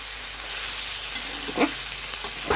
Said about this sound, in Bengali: আরও কিছুক্ষণ কষাবো, কিন্তু তেলের উপরে কষাচ্ছি ভিউয়ার্স